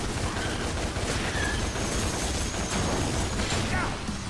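Ebony and Ivory pistols in Devil May Cry firing in a rapid, continuous stream of pops, thick with crunchy game effects throughout.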